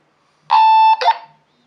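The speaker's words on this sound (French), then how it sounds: "il y a du Larsen, ils sont l'un à côté de l'autre, et le petit bip de fin de transmission" A steady electronic end-of-transmission beep from a T-388 PMR446 walkie-talkie holds for about half a second, then a short burst of harsh squealing feedback from two radios side by side follows and cuts off.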